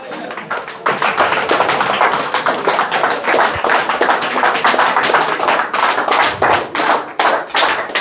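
A church congregation claps together in steady rhythmic acclamation, loud, dense, and continuous beats from many hands filling the room.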